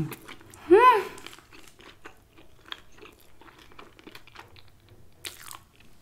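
Shredded brisket tacos being eaten, soft close-up crunching and chewing with a brief vocal murmur of enjoyment early on, then quiet intermittent mouth sounds.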